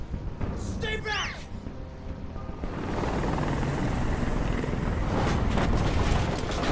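Helicopter rotor noise from the video game Detroit: Become Human, a steady broad rumbling wash that builds and stays loud after a few seconds, with a voice speaking briefly near the start.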